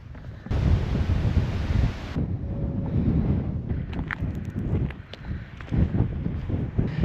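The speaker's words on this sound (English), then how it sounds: "I must say, it's extremely windy here." Strong wind on a Welsh hillside buffets the microphone in a loud, continuous roar with gusty surges and rumbling low end, no voices present.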